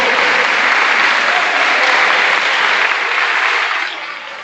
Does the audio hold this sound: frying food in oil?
no